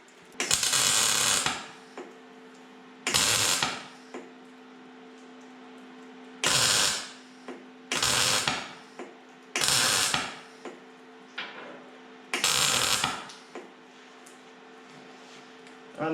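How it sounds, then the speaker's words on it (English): Short bursts of MIG welding on small patch pieces set into the rusty body of a 1990s Land Rover Discovery 1, five or six crackling runs a second or so long, separated by pauses with a steady hum beneath. "Now I'm gonna weld those small ones"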